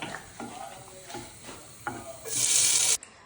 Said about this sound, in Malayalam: അതിനുവേണ്ടി മമ്മി ഇവിടെ തേങ്ങ വറക്കുന്നു